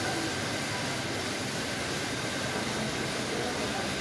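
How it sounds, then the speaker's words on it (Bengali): Sweater knitting machines run together on a Bangladeshi garment factory floor, making a dense, steady, loud mechanical roar and hiss that fills the space without pause. "এই যে এগুলো সব নিটিং মেশিন।"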